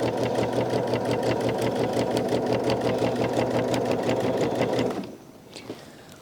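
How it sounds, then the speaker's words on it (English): Sewing machine stitching through a heavy quilt with a long 4mm stitch, a steady loud mechanical whirr with rapid rhythmic needle ticks that stops abruptly near the end, leaving a brief quiet tail. "I'm using a fairly long stitch at 4mm, but because this is heavy, the machine doesn't really want to pull it along."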